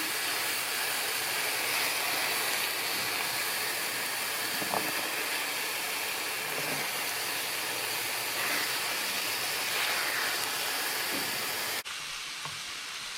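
Mushrooms fry in a pan over higher heat for a duxelles, giving a steady, loud sizzle and hiss with faint crackles. Partway through, the sizzle drops off sharply.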